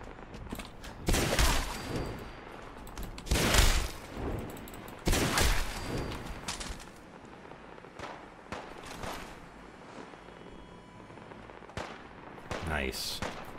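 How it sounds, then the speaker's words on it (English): Bursts of video-game gunfire from Fallout 4, loud clustered volleys of shots with a fleeing enemy firing back, spaced through the stretch with quieter gaps between and faint background noise. "And he's shooting me over his shoulder."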